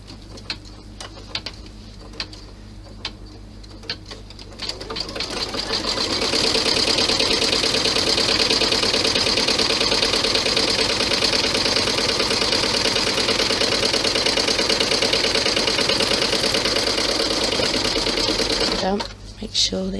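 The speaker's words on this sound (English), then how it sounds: "Let's stitch that down." A sewing machine stitches down part of a large clutch bag, running steadily for about fourteen seconds at a close, loud, even whir after some quiet handling noises at the start.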